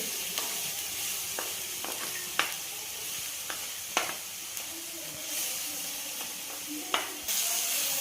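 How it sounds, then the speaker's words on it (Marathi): Spices sauté in oil for a hotel-style methi masala, producing a steady frying sizzle with intermittent spatula clinks and scrapes, close and moderately loud, with no talking. "हे मसाले हे पण तेलामध्ये थोडेसे परतून घ्यायचे"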